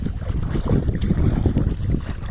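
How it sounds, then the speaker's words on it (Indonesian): Strong wind at the shore while people gather clams, a loud continuous low rumbling buffet with gusty swells and no clear voices. "Yang terdengar ya teman-teman, ya anginnya begitu lumayan kencang ya teman-teman."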